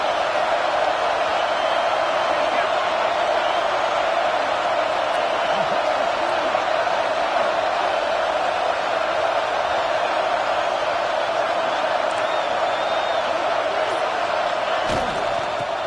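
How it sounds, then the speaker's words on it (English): At a Bulldogs football game, the stadium crowd keeps up a loud, unbroken roar for the whole stretch, a dense wall of cheering with no clear breaks. "this crowd rising up, sensing that its defense needs some help."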